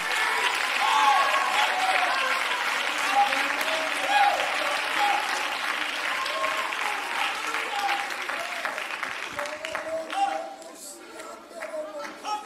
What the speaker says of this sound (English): you ought to be clapping your hands